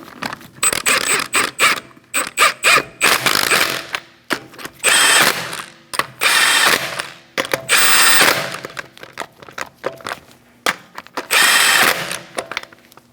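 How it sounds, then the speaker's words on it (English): Bursts of a power impact wrench tightening wheel lug nuts on a Chevrolet Sonic (2012–2020), close and loud, several whirring runs of a second or two separated by short pauses and small clicks, with no talking. "We're going to tighten up our lug nuts."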